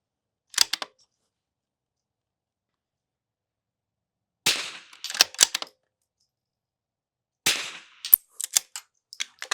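Rifle shots at an outdoor shooting range, with a Vudoo Three 60 rifle fitted with an Area 419 tactical scope mount: a single sharp crack, then two clusters of several close, loud reports with short echoing tails separated by silence.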